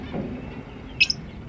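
Zebra finches in an aviary give a brief pair of sharp, high chirps over a low background hum, fairly close and otherwise quiet.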